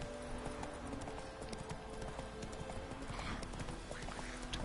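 Roach the horse gallops in The Witcher game, with a rapid, steady clip-clop of hooves over a dense background of ambient noise and occasional whinnies.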